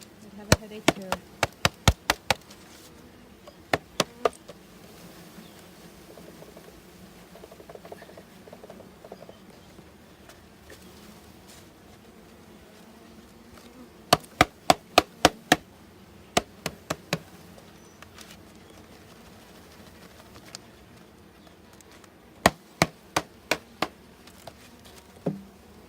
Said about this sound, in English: Oh, dizzy little bees.